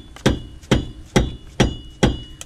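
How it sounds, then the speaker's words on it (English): A dead blow hammer strikes a tie rod on a 4th generation V6 Camaro steering rack five times in a steady rhythm, each blow a loud, close, dull thud with a short ring. "Now we'll take a hammer and hit this out."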